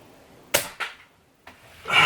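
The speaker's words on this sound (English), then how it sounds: "I don't want to ruin it with a 10th shot" An SMK .22 QB78S CO2 air rifle fired at a 25 meter range: a sharp close crack followed by a second snap and a softer later click, then a rising rustle.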